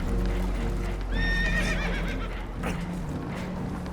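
Spooked horses whinny loudly on a damaged boat taking on water in Red Dead Redemption 2, with a shrill descending neigh over churning water noise and clattering.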